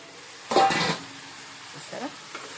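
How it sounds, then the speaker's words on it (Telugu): Crabs drop into a pan of cooked tomato masala with a sharp burst of sizzling and clatter, followed by quieter stirring scrapes and faint pan noises. "ఇప్పుడు ఎండ్రకాయలు వేస్తాము"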